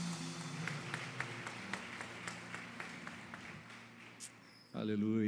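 A church congregation claps along during worship, steady rhythmic claps over a sustained musical backdrop, before a voice cuts in at the very end.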